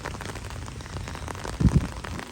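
Heavy rain pours steadily on surfaces in a Philippine outdoor setting, a dense continuous hiss with a couple of louder thuds near the end, no voices.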